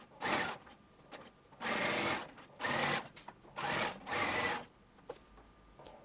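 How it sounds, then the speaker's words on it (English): A sewing machine stitches a seam joining the fronts to the backs of harem pants, running in five loud separate bursts with short quiet pauses between them. "Machine the seam."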